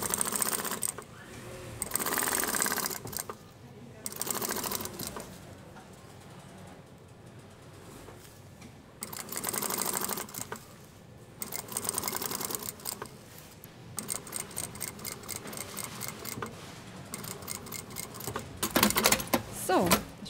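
Bursts of rapid mechanical chatter from a sewing machine stitching a parachute fabric seam, alternating with quieter gaps where the fabric is repositioned, close and clear with faint background voices.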